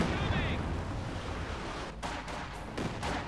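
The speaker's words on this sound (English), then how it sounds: "More Katyusha barrage is going off there." A Katyusha rocket barrage in the wartime strategy game Company of Heroes 2 rumbles as a dense, continuous roar of overlapping blasts, with a commentator speaking over it.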